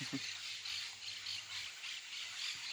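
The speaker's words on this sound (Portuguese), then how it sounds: "Os pássaros cantando, conversando entre si?" Birds chirping and calling outdoors at a rural park, a dense, steady chorus of high, faint calls with a low hum beneath and no clear talk.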